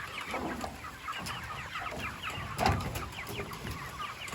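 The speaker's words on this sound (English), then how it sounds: "I've got to go over here and feed these meat birds" Meat chickens on a small dairy farm cluck and murmur close by, a busy scatter of short bird calls over faint outdoor noise, with no talking.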